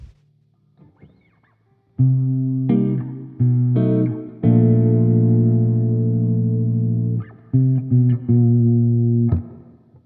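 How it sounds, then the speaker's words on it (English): An electric guitar with effects plays a chromatic tritone-substitution chord progression, sustained chords struck one after another with some long ringing holds, clear and alone. "here's our new progression, and it's going to be extremely chromatic"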